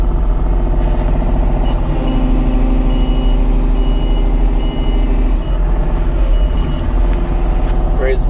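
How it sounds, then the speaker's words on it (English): A compact bulldozer-like machine with a blade, working a woodyard backfill, rumbles loudly and steadily while a reversing alarm beeps in a continuous even rhythm, close by. "This thing works like a mini bulldozer."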